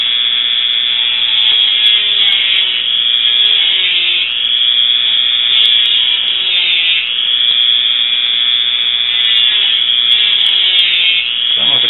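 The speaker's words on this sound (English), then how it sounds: "Maybe I can cut this ring off right here if I can get it at just the right angle." Metal ring on a clothes security tag being cut with a tool, giving a loud, harsh grinding screech with a constant high ringing whine and rising and falling strokes that run on and on without any talking.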